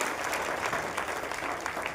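A community meeting audience of the Prajapati society claps vigorously, a dense, continuous patter of many hands that stays steady and fairly close.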